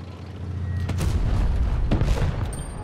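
Tank cannon shots in the mobile tank game WoT Blitz, with an AMX 50 B in play: two heavy booming blasts about a second apart over a steady rumbling battlefield background, loud and close.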